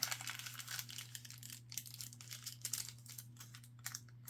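Paper pages of a small handmade journal are folded back and pressed by hand, producing close, soft crinkling and tapping rustles in irregular bursts over a low steady hum.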